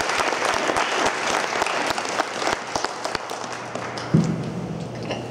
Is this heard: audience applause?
yes